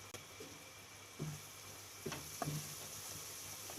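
Ground coriander-cumin, red chili and garam masala sizzle faintly in hot oil for a Gujarati rajma curry, a soft steady crackle with a few light ticks and stirring clicks.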